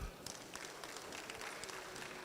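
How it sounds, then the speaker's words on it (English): Applause at a send-off party honouring Nana Kwasi Agyekum-Dwamena, a faint, steady patter of many hands clapping throughout, heard from a distance. "Let's give him a clap."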